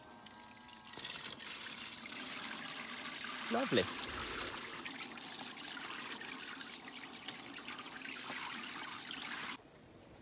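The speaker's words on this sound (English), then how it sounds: "it's just a simple little pump on the shower head, and it has surprisingly good" Water sprays steadily from a small pump-powered shower head at an off-grid site, a continuous close hiss lasting several seconds before cutting off abruptly, with a brief spoken word partway through.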